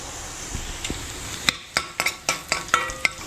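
Fenugreek seeds and a Byadgi chilli crackle in hot oil for a Konkani tempering, with a soft sizzle running under a series of sharp pops and spoon taps against the pan, fairly close and unaccompanied by talk.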